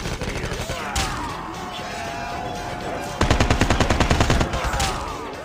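Rapid automatic AK rifle fire in the mobile shooter game Call of Duty Mobile, loud close bursts of quick repeated shots with a steady game soundtrack underneath.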